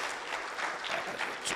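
Audience applause at a startup pitch event in Tunisia, a brief steady patter of many hands clapping at moderate, fairly quiet level with no voices over it.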